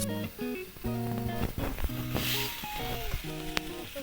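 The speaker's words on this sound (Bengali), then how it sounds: "দেখো মাছ ভাজছে" Fish sizzling loudly in a hot pan, a continuous close-up crackle and hiss with scraping stirs and clanks from the cooking, heard throughout.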